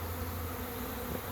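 A honey bee swarm moving into a swarm trap makes a dense, continuous buzzing hum, steady and moderately faint throughout.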